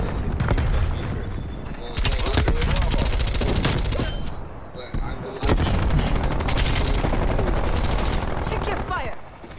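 Dense, nonstop automatic gunfire from an online Black Ops Cold War match, including LMG and MP5 fire, with loud overlapping bursts throughout and a short lull near the middle. Players talk over the shooting.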